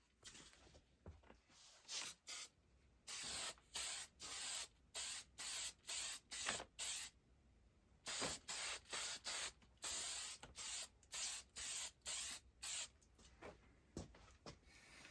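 Clear coat is misted from an aerosol can onto a decal on an antique Flexible Flyer sled in many short, rhythmic hissing bursts with brief gaps between them, close and steady for about fifteen seconds.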